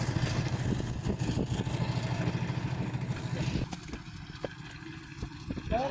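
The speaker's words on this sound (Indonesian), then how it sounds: "kita menggunakan mesin molen untuk mengaduk semennya" A molen cement mixer churns cement at a house construction site during a concrete pour for the work floor. Its engine makes a steady, rhythmic chugging that is loud at first, then eases back, with scattered knocks and clatter.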